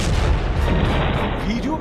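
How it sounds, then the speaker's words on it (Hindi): A bomb blast strikes a bulldozer in Gaza, a loud booming explosion with rumbling low-end energy that sustains and rolls across the whole moment, with faint voices mixed beneath. "वीडियो में जोरदार धमाके के साथ ही बुलडोजर एक जगह रुक जाता है"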